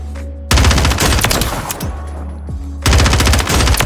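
Rapid SMG bursts in Warzone 3, loud and close, two long automatic strings of fire separated by a quieter stretch of shell and reload clatter.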